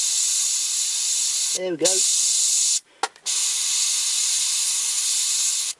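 Airbrush hissing steadily with compressed air at reduced pressure while spraying paint for shadow and highlight work, a continuous loud spray broken by a brief pause where someone speaks, then resuming.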